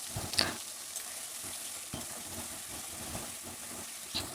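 Onion and garlic paste frying in oil for a jackfruit and prawn curry, a steady soft sizzle broken by scraping stirs and a few sharp pops.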